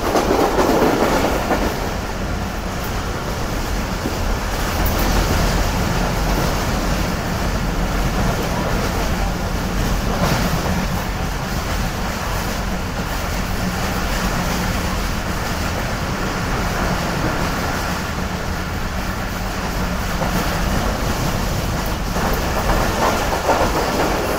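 The Karakoram Express, running from Lahore with old coaches, rolls fast along the track. Heard from inside, it gives a loud, steady rumble with rhythmic clickety-clack from the wheels throughout.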